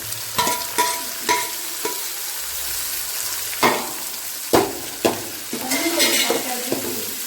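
Chopped tomatoes frying for a conch curry, a steady sizzle broken by repeated scraping and clinking stirring strokes of a spoon against the pan.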